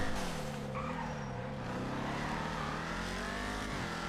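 A Vapid Dominator ASP muscle car in GTA 5 Online drives with a loud, steady engine drone and rising and falling revs throughout, close and continuous with no voices.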